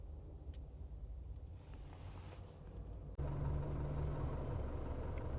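A truck engine turns over and catches, settling into a loud, steady low rumbling idle after a quieter stretch of ambient hum; the truck carries a Carrier refrigeration unit.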